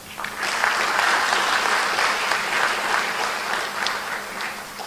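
An audience gives sustained, dense applause to the guest of honour at the 12th Mwalimu Nyerere Chair symposium, a steady, loud wash of clapping lasting the full five seconds with no talk over it.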